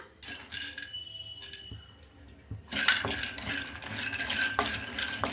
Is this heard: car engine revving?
no